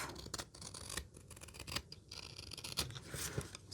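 Scissors snipping through thrifted paper envelopes to cut them in half: quiet, close, crisp cuts and rustles repeating irregularly, no voices.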